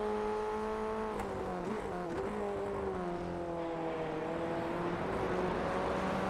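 A Formula Ford race car in the iRacing game at Ledenon circuit, its engine note holding a continuous whining tone that rises and dips with gear changes and throttle, with no talk over it.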